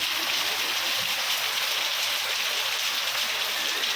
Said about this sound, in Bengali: এখানে বৃষ্টি আসলো